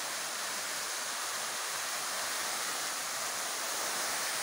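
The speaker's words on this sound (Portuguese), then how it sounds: "E essa é a cascata de Thunder." Steady, dense roar of the Cascata de Sander waterfall, loud and unbroken throughout, with no voices or other sounds.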